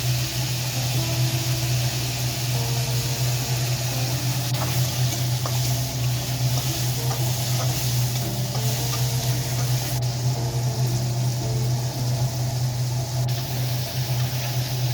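Lentil fritters frying in oil in a wok give a steady, continuous sizzle with a constant low hum beneath it, even in level throughout, and no voices.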